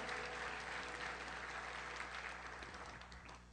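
At a guitar concert, the audience applauds in a steady, even wash of many hands clapping, moderately distant in the hall and easing slightly toward the end.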